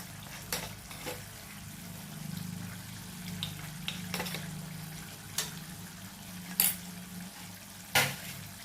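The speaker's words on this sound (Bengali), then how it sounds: "এবার আমাকে ভালো করে কষতে হবে, ভালো করে কষে নেব।" Katla fish pieces with chilli powder sizzling as they are sautéed in a pan, a soft continuous frying hiss broken by a few sharp scraping or clanking stirs, with no talking.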